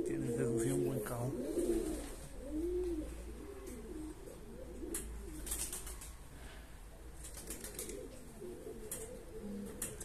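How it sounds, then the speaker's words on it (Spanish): A male pigeon coos repeatedly in rolling, low throaty phrases, close by and fairly loud, with a steady low hum underneath and occasional other bird sounds. "Está ahí arrullando, ¿lo veis?"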